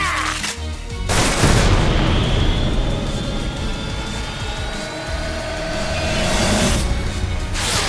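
Gunfire in an anime action scene, heavy booming bursts at the start and end over a dense, rumbling wall of noise, loud and continuous with no clear speech.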